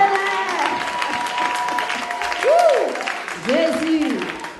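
A church congregation gives an acclamation during a service, with raised cheering voices rising and falling over a background of clapping, swelling twice toward the end.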